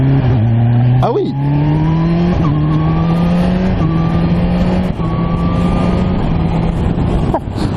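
A Kawasaki Ninja H2 motorcycle accelerates hard through the gears with a quickshifter, its loud engine note climbing in pitch and then dropping at each quick shift, recorded close up with no speech.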